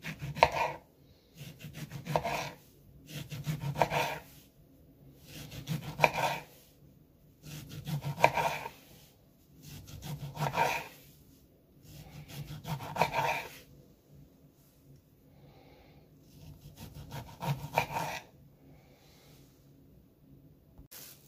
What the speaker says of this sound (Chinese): 橙子切成薄片